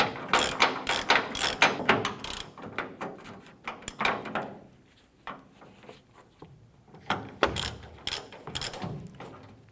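Ratchet snugging down tailgate hinge bolts on a Ford Ranger, bursts of quick clicking strokes close up, with pauses and a few metallic knocks between runs.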